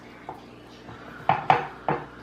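A serving spoon scrapes and knocks against a baking dish while scooping hot cauliflower chicken casserole with bacon, giving four short clinks and scrapes spread over a couple of seconds, fairly close and moderately loud.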